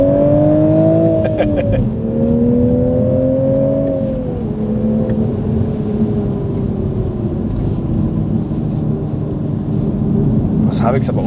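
A Toyota Supra accelerates hard through a full-throttle pull, the engine note rising steadily and loud up close with a gear change early on, then droning on under the run.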